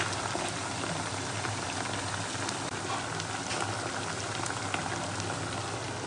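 Fermented pork bones (naem) frying in hot oil, giving a dense, continuous bubbling sizzle that stays close and even throughout, with no voices.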